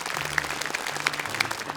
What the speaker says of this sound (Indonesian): Tepuk tangan dong untuk Ayah